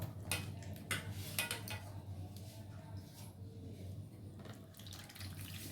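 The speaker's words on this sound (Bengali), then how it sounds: "তার জন্য আমি একটু জল নিয়ে তেঁতুলটা একবার শুধু" Tamarind is rinsed in a little water for a pickle, and the water sloshes and splashes softly at close range. A few brief louder splashes fall early on, followed by quieter swirling, and no one talks.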